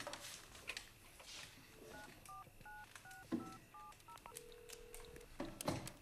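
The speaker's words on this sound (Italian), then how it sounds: "Ti ho detto che faccio una telefonata e andiamo" A telephone number is keyed in as a run of short DTMF tones in quick succession, followed by one longer tone, with faint room noise and rustling around them.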